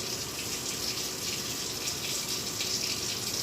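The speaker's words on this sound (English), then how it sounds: "First, as always, we begin with some thorough hand washing up the wrists, all the way down to the fingertips and in between." Running tap water pours steadily into a sink while hands are washed thoroughly before cooking, a constant close splashing hiss with no talking.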